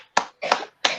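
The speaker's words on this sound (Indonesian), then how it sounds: "Tepuk." Three sharp hand claps in a physical education peer-teaching session, crisp and close, evenly spaced about a third of a second apart with silence between.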